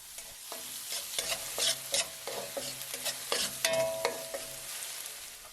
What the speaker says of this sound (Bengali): পেঁয়াজে কালার চলে আসলে মটরশুঁটি দিয়ে মটরশুঁটিকে 4 থেকে 5 মিনিট ভেজে নেব।